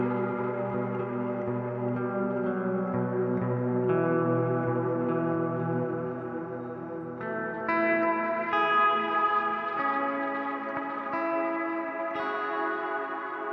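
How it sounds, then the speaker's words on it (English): A clean guitar tone runs through a plate reverb with modulation depth on a Quad Cortex, sustained chords ringing in long, shimmering ambient washes that shift pitch every few seconds, with no voices. "Let's try putting that mod depth back on the plate reverb."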